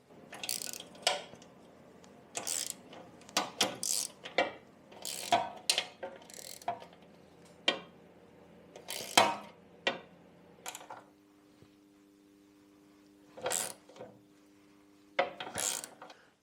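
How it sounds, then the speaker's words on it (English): A ratchet tightens the mudguard bolts on a Lambretta Li150 Series 2 scooter in a garage, giving quick clicking bursts, then a pause and a few final clicks, close by and moderately loud. "then you can tighten down the bolts"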